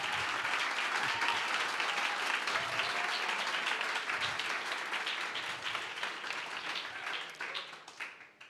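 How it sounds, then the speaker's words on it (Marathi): An audience at a Christian talk applauds steadily for several seconds, a dense, even wash of clapping that thins slightly toward the end. "आज तुम्ही टाळ्या वाजवत आहात"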